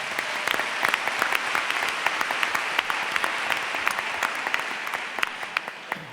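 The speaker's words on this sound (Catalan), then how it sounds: "Un aplaudiment pel meu company" An audience at an anniversary presentation applauds warmly, a dense, sustained clapping that fills the room evenly for several seconds with no voices over it.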